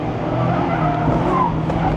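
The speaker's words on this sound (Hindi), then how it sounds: "लिटरली गाड़ी ड्रिफ्ट कर रही है इधर उधर" A light Mazda MX-5 Miata on 195-section tyres drifts, its tyres squealing steadily over the engine noise. The skid is continuous, loud and close, and lasts about two seconds.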